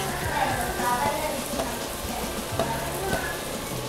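Chopped carrot, cabbage and capsicum hiss steadily in a frying pan already seasoned with chicken masala, a constant close sizzle broken by a few soft scrapes and clicks of stirring.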